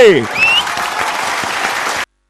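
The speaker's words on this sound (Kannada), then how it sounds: "ಈ ಕಡೆಗಳಿಗೆ ಎಲ್ಲರಿಗೂ ಬಳಿ ಒಂದು ಜೋರಾದ ಚಪ್ಪಾಳೆ" Loud applause for UKG children after their dance at a school event, a dense burst of clapping that follows a brief voice and a whistle, then stops abruptly.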